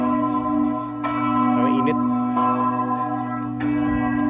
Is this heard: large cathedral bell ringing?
yes